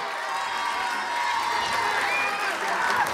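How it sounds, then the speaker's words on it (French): A TV studio audience at L'École des Fans applauds and cheers loudly and steadily, a dense wash of clapping with scattered shouts throughout. "Ciao Nadia, que vous pouvez applaudir encore très très fort."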